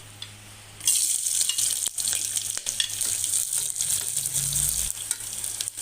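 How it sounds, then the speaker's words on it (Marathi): Onion drops into hot oil with cloves, black peppercorns and bay leaves for mutton paya soup, bursting into a loud, close sizzle that keeps hissing steadily, with occasional stirring scrapes. "आता यामध्ये आपण लगेच कांदा पसून घेणार आहोत"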